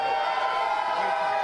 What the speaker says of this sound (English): The crowd cheering for Silent Spring.